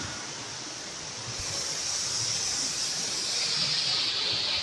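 Jagir waterfall in Banyuwangi, a steady broad rush of falling water that swells slightly and holds constant without pause or voices.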